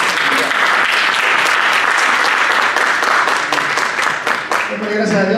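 A church congregation breaks into loud, dense applause during a worship service, sustained hand-clapping filling the room for several seconds, with a voice briefly heard over the clapping near the end.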